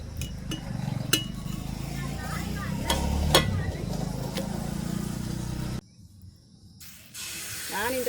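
Dosa batter fries on a griddle in a village kitchen, a steady sizzling hiss with occasional clinks of utensils, heard beneath a person talking. A short quiet gap comes before the hiss returns.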